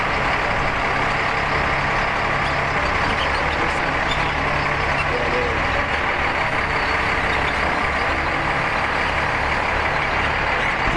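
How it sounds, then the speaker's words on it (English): A large military loading machine working at a maintenance site in Ramadi, Iraq, lifting containers onto a trailer, gives a steady, loud, close diesel engine drone with no break. "We will use this machine to load the containers on top of the trailer."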